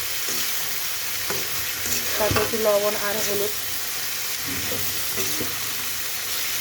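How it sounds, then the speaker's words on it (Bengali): Half-boiled jackfruit seeds sizzle and hiss in hot oil as they are stirred, a steady close frying noise with a voice talking briefly over it. "তো এগুলোকে এখন একটু ভেজে নেবে তেলের ভিতরে"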